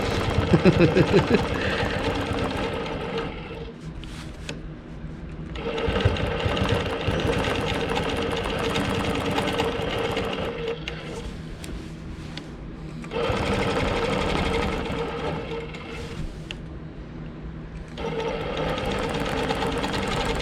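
A longarm quilting machine stitches at a moderate pace, its steady needle hum running through in long bursts separated by short quieter pauses, close and fairly loud, with no talking.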